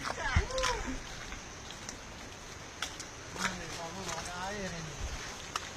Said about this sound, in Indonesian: sementara kita lagi beres-beres cuci kaki